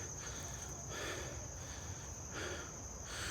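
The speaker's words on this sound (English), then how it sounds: "I can hear the birds and the crickets in the background and the cicadas and the various insects" Faint outdoor insect chorus, with crickets and cicadas chirping steadily and a high continuous trill in the background, no voices.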